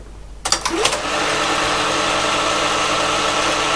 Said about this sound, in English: I'll manually start the printer.